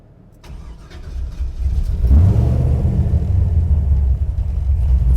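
A big-cam naturally aspirated LS-swapped Chevy Nova engine cranks briefly and catches, then settles into a loud, close, lumpy idle with a deep, rough rumble.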